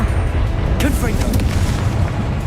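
Confringo fire-blast spell in Hogwarts Legacy, a loud rumbling boom over a dense low roar, with a brief voice partway through.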